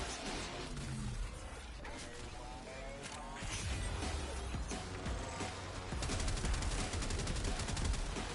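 Tenet Quanta alternate fire in the Warframe video game, a dense, continuous barrage of energy gunfire and crackling impacts layered over busy game effects and music, growing louder and more intense toward the end.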